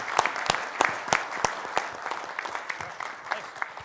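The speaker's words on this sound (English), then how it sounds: "Everyone, let's give them both a big round of applause." A small conference audience claps for a few seconds, sharp distinct claps in an uneven rhythm that thin out and fade toward the end.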